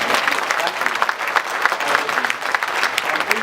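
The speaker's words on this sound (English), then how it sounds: "please clap your hands" An audience at an election debate claps, a steady close patter of many hands lasting the whole stretch with no pause.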